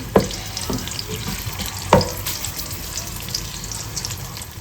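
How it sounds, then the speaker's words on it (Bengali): Onions fry gently in a pan with a steady low sizzle and crackle, punctuated by a couple of sharp clinks of a spatula stirring against the metal. "তো এই পেঁয়াজগুলোকে এখন একটু ভেজে নিব"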